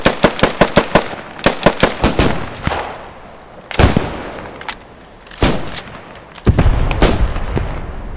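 Gunfire from a weapon in the video game Post Scriptum rings out as loud, sharp shots, first a rapid string of single cracks, then scattered heavier blasts and booms with echoing tails, with no talking.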